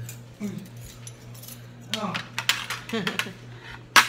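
Plates are handled in a home kitchen, giving intermittent clinks and clatters of dishes against each other at close range, with a bright sharp clink near the end over a steady low hum.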